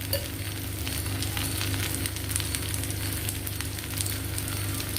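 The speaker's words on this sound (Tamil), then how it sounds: "இப்போ சிம்மில் வச்சு நிதானமாக வேக விடலாம்" Pearl millet adai fries in oil on a pan with a steady, close sizzle, low crackle and faint popping throughout, no voices.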